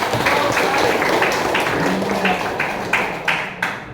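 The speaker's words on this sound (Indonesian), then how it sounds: "Tepuk tangan." Audience applause in a classroom-style gathering, a loud wash of many hands clapping together, steady then tapering with a few sharper claps near the end.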